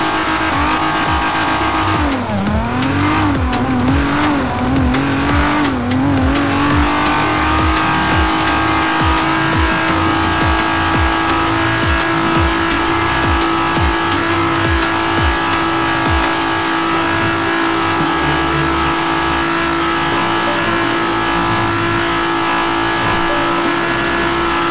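A modified BMW M5 E60 with engine changes accelerates hard toward top speed, its loud engine roaring and rising through gear shifts early on, then settling into a sustained high-pitched drone with no talking.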